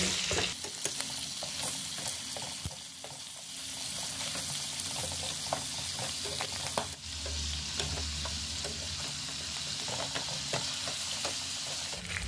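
Pork for tomato adobo sizzles and fries in a pan with a dense, steady crackling hiss, punctuated by occasional scrapes and clicks of stirring and turning, close and continuous without speech.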